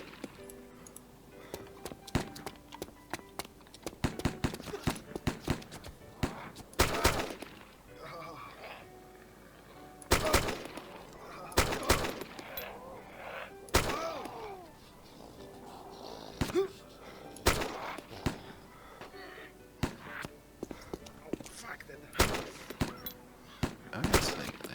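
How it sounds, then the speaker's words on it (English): Makarov pistol fire in ArmA 2 DayZ, with sharp separate cracks and bursts of gunfire spread irregularly across the stretch over a low game ambience, sometimes near and sometimes more distant. "That was a pistol shot. Sound like a Makarov."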